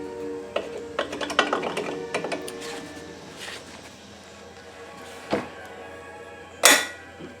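Ratchet loosening the cross member bolts on a Porsche 944 during engine removal, a close series of quick clicks and knocks early on, then a couple of sharper isolated clanks later.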